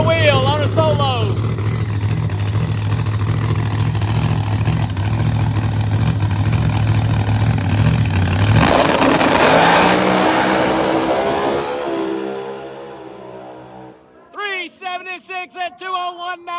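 A ProMod drag race car makes a solo qualifying run at a drag strip: a loud, steady, droning engine roar, then a rising rush as it pulls away and fades, with an announcer's voice heard after the roar dies.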